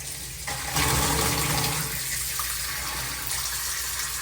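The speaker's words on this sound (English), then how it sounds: "Hot water on. It's gonna gurgle because the water was off." Hot water running from a shower tap in a newly tiled bathroom, gurgling through pipes after the supply was shut off; a steady close rush with a louder surge near the start, continuous throughout.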